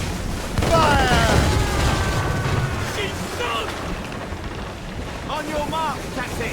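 Mortar fire in an Assassin's Creed Rogue naval battle: a heavy rumbling boom rolls out, followed by crackling debris and more distant blasts, with shouted voices over the din.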